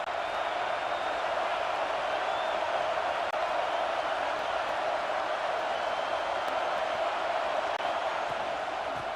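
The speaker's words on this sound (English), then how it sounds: "This crowd going to try to make life miserable for these guys." A stadium crowd roars steadily in a college football video game, Michigan against App State, a dense continuous wash of crowd noise with no distinct cheers or talk.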